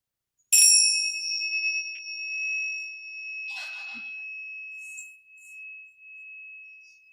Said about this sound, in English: I'll ring the chime to bring us back.